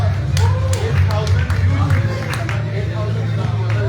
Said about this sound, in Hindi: जोरदार तालियां हो जाए आशवी के लिए everybody